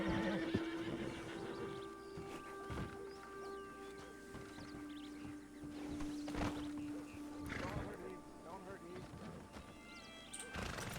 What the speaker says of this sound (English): Leave those horses alone.